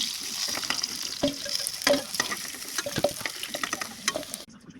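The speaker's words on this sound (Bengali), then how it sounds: "আমাদের মাছটা ভাজা হয়ে গেছে, এবার তুলে নেব।" Fish fries in hot oil in a pan: a continuous close sizzle with irregular scraping and clacks as the pieces are turned and lifted, ending abruptly in near silence.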